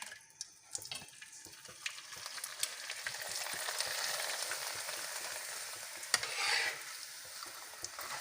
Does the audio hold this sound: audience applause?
no